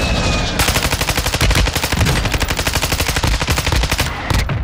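Suppressing fire in a shooting video game, a loud, close, sustained automatic weapon burst of rapid evenly spaced shots that runs almost unbroken for several seconds.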